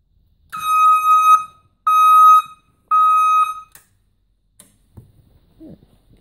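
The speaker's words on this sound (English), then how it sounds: "We'll do the beeper." A beeper fitted to a custom Ariens lawn tractor sounds three loud, shrill electronic tones, each about a second long with short gaps between, followed by faint rustling.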